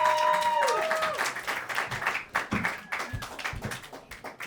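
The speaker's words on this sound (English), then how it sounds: "Keep clapping, everybody." A comedy roast battle audience claps and applauds for a comedian coming to the stage, a thick wash of many hands with some louder nearby claps, tapering into scattered clapping, while voices briefly talk over the start.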